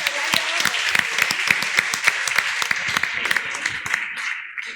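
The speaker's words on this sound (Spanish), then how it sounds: "¿No creen ustedes que merecen ellos un aplauso," Applause from a church congregation at a Sunday service, a dense run of individual hand claps with sharp distinct strikes, steady and fairly close for the whole stretch.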